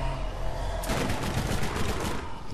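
Rapid bursts of gunfire from the video game Borderlands, a dense crackling volley of shots starting about a second in and continuing loudly to the end.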